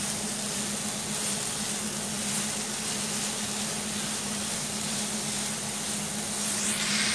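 Grated carrots and other vegetables sautéing in a pan for a veg cheese wheel sandwich, a steady, even hiss and sizzle over a low hum, with no voices.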